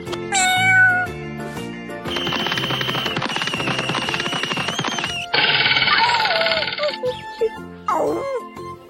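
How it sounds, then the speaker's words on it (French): A cat meows in short, rising cries, bright and close, set among cartoonish electronic sound effects and ringing tones that come and go. "Son cri s'appelle le miaulement"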